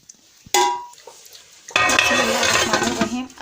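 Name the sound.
pot being covered with a lid while cooking lauki halwa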